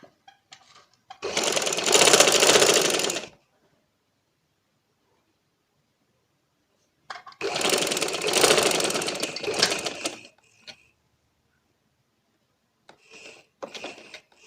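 Sewing machine stitching joined lace for a chalk-marked design, running in two sustained bursts of a few seconds each with silence between, then a couple of brief short runs at the end.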